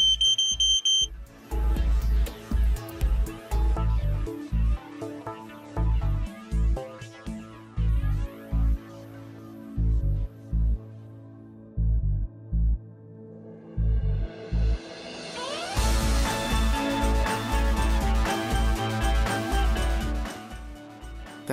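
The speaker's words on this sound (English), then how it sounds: "When the smoke detector has been triggered" Smoke detector alarm sounding during a product demonstration, with loud pulsing beeps in an irregular pattern over background music that turns busier toward the end.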